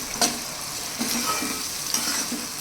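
Tomato pieces and onions fry in a pan for a country chicken curry, giving a steady close sizzle with a few soft stirring knocks and scrapes; no one speaks.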